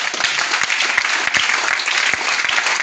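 A church congregation claps steadily in a continuous wash of applause, close and full, with no voices rising above it.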